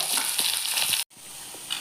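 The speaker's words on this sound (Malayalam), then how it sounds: "നല്ലോണം വറുത്തെടുക്കണേ വറുത്തെടുക്കുന്നത് ഞാൻ വറുത്തെടുക്കട്ടെ കേട്ടോ" Steady, loud sizzling of bitter gourd frying in a pan, with a brief dropout midway before the crackle resumes.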